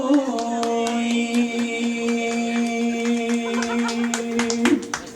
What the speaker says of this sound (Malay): sekali lagi tepukan untuk Ayi, Mustaqim, Zaman dan Jojo